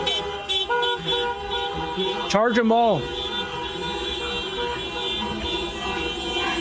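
Car horns honking at a street protest against charges of mischief, with a sustained, wavering horn blast around the middle, steady traffic and crowd noise throughout, and a voice speaking over the din.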